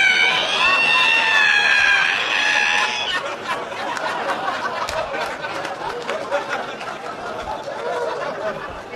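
At a stand-up comedy show, a comedian's voice imitates the long, high squeak of an ironing board being opened, over a lively audience murmuring and laughing.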